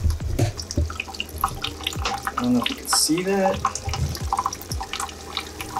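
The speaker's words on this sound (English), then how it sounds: "Okay, so the water is dripping." Water drips steadily during drip acclimation of guppies into an aquarium, with a series of small, distinct plinks and trickles close by while someone talks over them.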